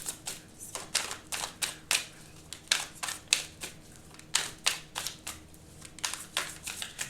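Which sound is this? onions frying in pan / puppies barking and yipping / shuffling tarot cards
shuffling tarot cards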